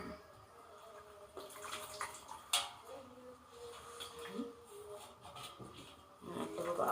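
A farm duck being dipped and pressed into a basin of water for cleaning gives soft sloshing and splashing, quiet and close, with small drips and knocks.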